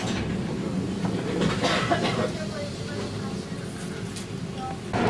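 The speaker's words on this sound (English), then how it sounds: "Oh, this train is pretty quick too." Steady rushing rumble of a train moving at speed in Poland, with faint rattling and a brief high squeal, while people talk over it.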